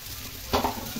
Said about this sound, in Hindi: अच्छा से इसको फ्राई करके पकाना है।